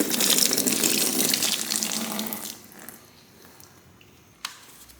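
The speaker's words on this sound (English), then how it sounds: "I'm gonna remove the lower hose. Might have some antifreeze drip" Antifreeze pours from a removed lower radiator hose on a Volvo XC, a close splashing gush that tapers off after a couple of seconds into quiet dripping, with one sharp knock near the end.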